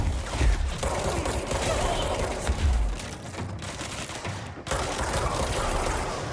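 Rapid bursts of gunfire from the video game Control, dense and loud with deep low booms, broken by brief drops in volume.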